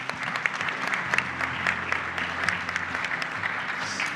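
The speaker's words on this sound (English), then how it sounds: "Please, round of applause." Audience applause at a live tech gameshow, a sustained, dense wash of clapping from a crowd that runs steadily throughout without any talking.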